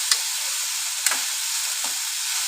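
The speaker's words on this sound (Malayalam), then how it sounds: "വഴറ്റിയെടുക്കാൻ വേണ്ടി മാത്രമാണ് കടായി അടുപ്പത്ത് വെച്ചത്." Chicken stew ingredients sautéing in a kadai on the stove, a steady bright sizzle throughout with a few soft stirring scrapes, close and alone without talk.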